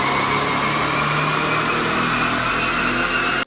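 A tuned Audi A4 1.8 turbo with a K04 turbo, red injectors, straight-through exhaust and FMIC intercooler runs steadily, a loud, close, even engine drone that cuts off abruptly at the end.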